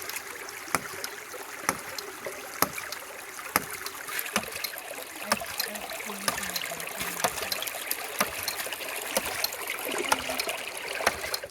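A water-powered ram pump runs with water flowing, its valve delivering water uphill: a regular, sharp knocking or clacking about once a second over a continuous rushing trickle of water, outdoors and moderately close.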